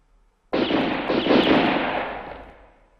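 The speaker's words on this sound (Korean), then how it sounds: "세 발의 총성이 부두에 울려 퍼졌다." Gunfire at a harbour pier, a dense loud burst starting abruptly and ringing out with a long fading tail; the individual shots are not clearly separated.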